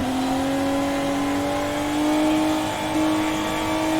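A drift car's engine holds a loud, steady high rev, its droning pitch climbing slightly as it accelerates, with continuous road and tyre noise close by throughout.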